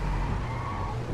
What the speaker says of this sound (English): that was a nice drift I just pulled off